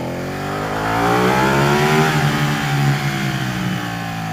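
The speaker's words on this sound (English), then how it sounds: "My favourite bike of 2016 is this one. The 899 Panigale." A Ducati 899 Panigale motorcycle revs loudly inside a tunnel, its engine rising and falling in pitch with strong echoing reverberation, close and continuous without speech.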